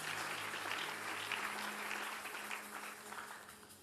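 Church congregation applauding together after a call to acclaim the Lord during an evening prayer service, a steady wash of clapping that holds for several seconds and slowly thins toward the end.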